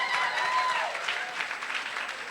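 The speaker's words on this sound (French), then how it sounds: "Est-ce qu'on peut donner une bonne main d'acclamation à Dieu?" Congregation applauding during a Sunday church service, a steady wash of clapping throughout, moderately faint, with a few voices calling out over it.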